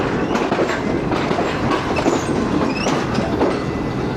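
The Pak Business Express train rolls loudly through the Rohri Junction rail yard, with a continuous rumble, rhythmic clickety-clack over points and brief metallic wheel squeals, heard from on board.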